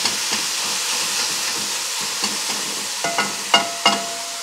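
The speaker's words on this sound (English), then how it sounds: "I'm just going to let that sit now and start to brown on one side" Ground beef frying and browning in a pot, a continuous close sizzle with light stirring scrapes and a few louder clinks and pops toward the end, no talking.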